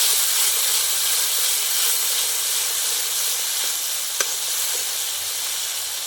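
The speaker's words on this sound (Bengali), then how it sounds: "এবার যে বাটা মশলাটা বেটে রেখেছিলাম সেটা দিয়ে দিচ্ছি। দিয়ে খুব ভালো করে নেড়ে নেবো যাতে কাঁচা গন্ধটা কেটে যায়।" Ground mustard-poppy spice paste fries in a pan with eggplant, a steady close sizzling hiss with faint stirring scrapes and a single sharp clink near the end.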